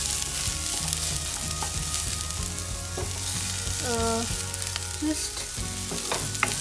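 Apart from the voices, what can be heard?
broccoli sautéing in a pan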